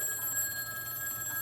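Old-fashioned telephone line ringing through to a Murray Hill exchange number: a steady, continuous electronic ring tone heard over the receiver, moderately loud and alone with no voices.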